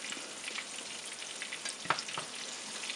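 Chicken pieces fry in a pan with a steady, soft sizzle, marked by a few brief crackles and pops.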